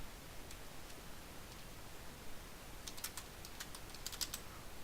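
Computer keyboard typing code in a programming tutorial, a few faint soft keystrokes early and then a quick cluster of light clicks near the end, heard alone against a quiet hiss.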